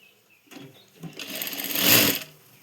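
A sewing machine runs in a short burst, picking up speed to a steady whir as it stitches the joint of a blouse seam, then stops.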